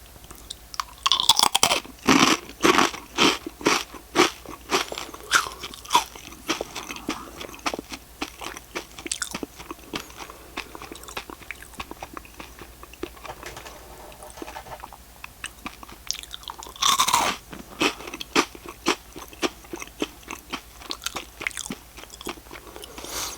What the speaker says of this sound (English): Great texture, great crunch, great taste.